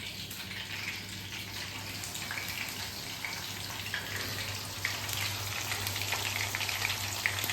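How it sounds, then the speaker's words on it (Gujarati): Green chillies frying in hot oil, a steady close hiss and crackle of sizzling that runs continuously and grows slightly louder, with a low hum underneath and no talking. "મરચાં ફ્રાય થઈ ગયા છે"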